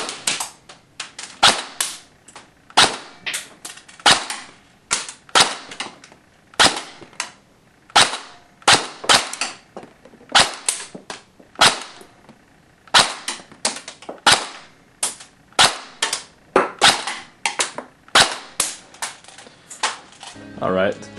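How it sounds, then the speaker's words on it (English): An A&K airsoft M4 D1 with an M100 spring fires .25 gram rounds through a chronograph, producing a long series of sharp, loud, evenly spaced single shots at close range. "with the M100 spring installed and using .25 gram rounds, let's go ahead and chrono it"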